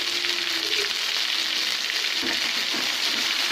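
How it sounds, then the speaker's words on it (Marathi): Four or five curry leaves and ground masala fry in hot oil over a medium flame for Khandeshi dhaba-style sev bhaji, a dense, even, loud sizzle with faint stirring underneath. "चार पाच कडी आणि वाटलेला मसाला टाकून घेऊ"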